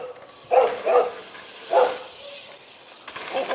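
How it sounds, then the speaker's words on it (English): An excited dog barks in short bursts in a backyard where a BMX and mountain bike jump line is being dug, a few yips spaced over a few seconds amid a quiet outdoor background. "Yeah, that dog is hyped."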